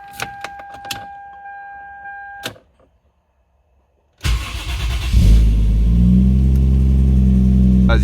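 Keys jingle briefly near a Toyota JZX110, then after a short silence its engine cranks and cold-starts, settling into a loud, steady, high idle rumble.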